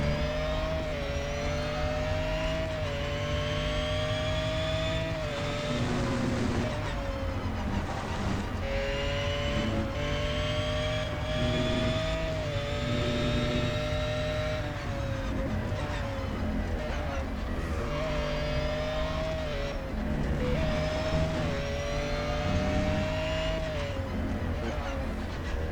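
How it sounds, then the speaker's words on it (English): Race car engine in a racing video game, revving up and down through repeated gear changes in a continuous droning whine, with a voice talking over it throughout. "I don't like the sound of this car much."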